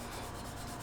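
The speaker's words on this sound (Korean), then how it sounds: "스틱 사포로 이렇게 합니다." Stick sandpaper rubbed against gate marks on a plastic model kit, a soft steady scratching friction heard close up and faint, continuous without pauses.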